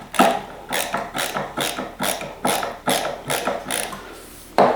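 An LTT ratcheting screwdriver drives a screw in about nine evenly spaced, close ratcheting clicks of the pawl mechanism, each a short rasping burst, ending with one sharper final click.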